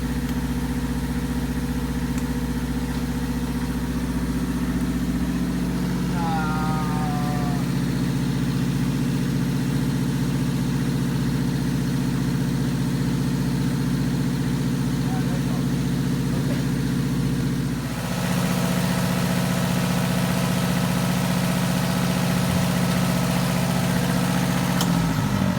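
A Burger motor yacht's engine runs at a steady idle, a loud continuous low rumble with a brief dip near the end before it settles again; a faint squeal passes early on, and no one speaks.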